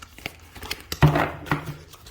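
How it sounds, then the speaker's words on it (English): Tarot cards being shuffled in a close, quiet setting: a short run of soft papery riffles and taps with one fuller flutter near the middle, no voices. "I'm going to shuffle again."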